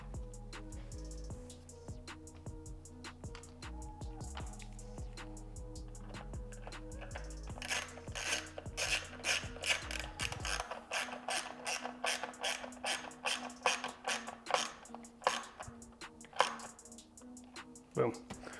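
A ratchet tightens the bolts holding a BMW G87 M2 steering wheel in place, giving a quick run of close clicking strokes in the second half after a quieter stretch with low talk.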